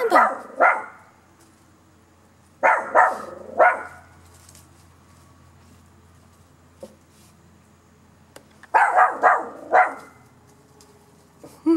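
Dogs barking in short bursts of two or three sharp barks, separated by quiet gaps, close and loud.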